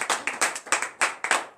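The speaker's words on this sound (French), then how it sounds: "Donnez l'acclamation à Jésus." A church congregation at a morning prayer service claps rhythmically, about eight sharp hand claps in quick, even succession, close and distinct with no voices.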